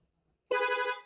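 A Sniper 155 motorcycle horn gives one short, loud, bright honk after a moment of near silence, close to the microphone.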